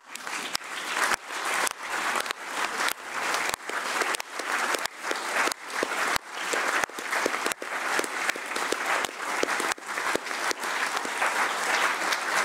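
Rhythmic, synchronized clapping from a crowd at a conference in the European Parliament, roughly two claps per second, steady and fairly loud for over twelve seconds.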